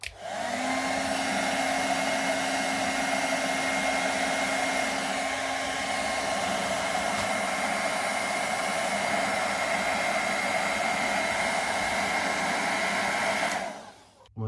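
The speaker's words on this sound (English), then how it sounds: "And again, hit it with a hairdryer." A hairdryer drying a fresh layer of paint on a silicone mask blows with a steady, loud, even whine and rush of air for over ten seconds before switching off near the end.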